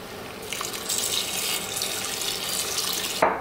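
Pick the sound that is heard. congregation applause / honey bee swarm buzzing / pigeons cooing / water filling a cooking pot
water filling a cooking pot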